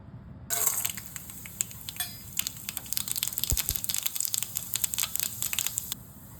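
Mustard seeds, urad dal and chana dal hit hot oil in a pan, a sudden loud sizzle with sharp crackling pops that runs for several seconds, then cuts off.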